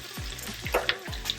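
Zucchini and other vegetables dropping into a hot pan, three quick sizzling bursts with clatter as pieces land, close and brief with no voices.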